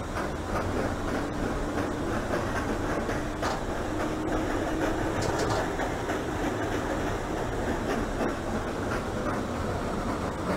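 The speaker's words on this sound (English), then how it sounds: "This is a Manhattan-bound M local train" A Manhattan-bound M local subway train runs in the OpenBVE train simulator game, a steady loud rumble with faint rhythmic clicks and no voices throughout.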